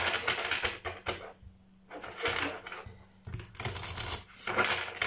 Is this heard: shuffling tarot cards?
yes